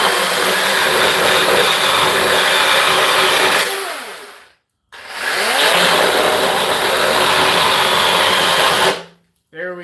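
DEWALT 12 inch cordless chainsaw cuts hard under load, a loud continuous buzzing whine that sags in pitch as it bites, stopping briefly between two long cuts.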